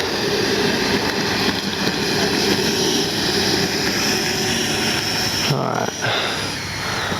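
An FMS Avanti S RC jet with a 90mm electric ducted fan flies past, producing a steady, loud, rushing turbine-like whine with a deep roar that holds throughout, ending with a brief dip.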